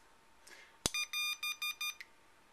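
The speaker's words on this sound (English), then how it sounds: "what you heard was an AS signal in Morse code" A sharp click, then a run of short, evenly spaced electronic beeps forming the Morse code AS signal, fairly quiet and clean.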